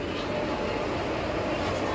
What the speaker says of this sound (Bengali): এই আমাদের রাধিকাপুর এক্সপ্রেস ঢুকে গেল